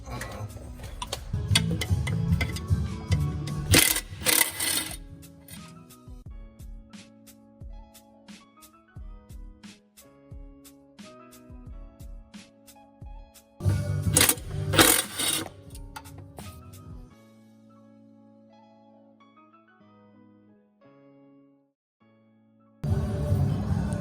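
Pneumatic impact wrench bursts loosening transmission bolts on a 2001 Dodge Ram 1500, two loud hammering runs separated by a quieter ticking stretch, then a third burst starting at the end.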